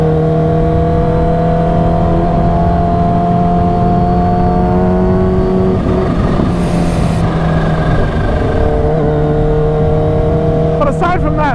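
A supercharged Kawasaki Ninja H2 engine drones loud and steady while being ridden, its pitch holding and then shifting as it climbs through the revs, with wind rush throughout.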